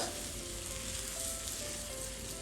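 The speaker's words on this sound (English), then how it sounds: "the omelette is cooking" Classic French omelette of cooked eggs sizzling in a hot pan: a steady, close frying hiss that stays even and continuous throughout, with no voices over it.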